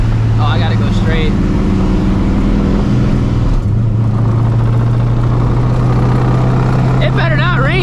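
A loud supercharged New Edge Ford Mustang GT, driven with no hood, drones steadily from the cabin with a strong low engine hum and supercharger whine, while voices talk intermittently over it.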